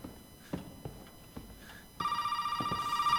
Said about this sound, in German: Geht mir das auf den Sack hier, das Telefon.